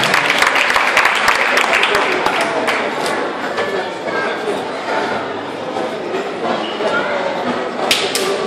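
A crowd at an outdoor concert in Mesagne applauds loudly before a song. Thick, close clapping with sharp cracks carries on throughout, with some crowd noise mixed in.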